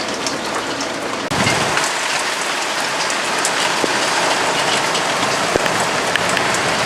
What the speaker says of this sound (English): This rain is legit.